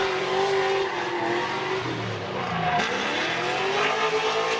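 A drift race car engine holds a steady, consistent throttle note in competition, a loud continuous rasp with slight pitch dips and a brief tire squeal mid-run, with no talk over it.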